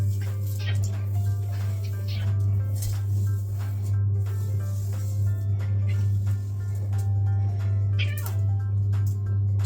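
A cat meows several times over a steady low hum, the cries short and close, with a few faint clicks and rustles between them.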